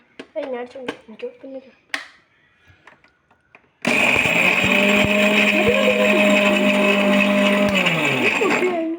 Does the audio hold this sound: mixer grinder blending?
yes